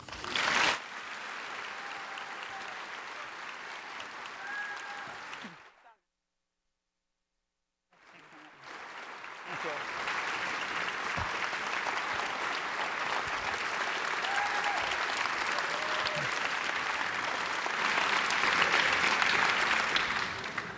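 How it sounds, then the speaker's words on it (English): A Reagan Library audience rises in a standing ovation, with sustained loud applause from a large crowd broken by a brief silent gap, then swelling again and building toward the end. "It is always great to have something start off with a standing ovation like that"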